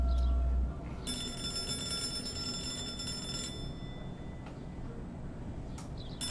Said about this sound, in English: I have to answer the phone.